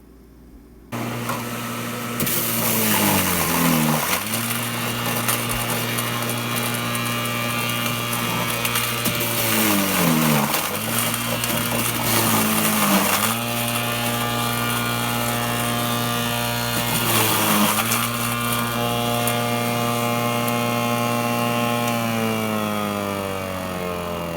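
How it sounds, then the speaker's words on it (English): Electric grating machine shredding potatoes and onion for vegan hash browns; a loud, close motor whine starts abruptly and runs continuously, its pitch dipping and recovering several times as food is pushed through, with no talk. "I'm lazy grating, so I'm gonna use my grating machine."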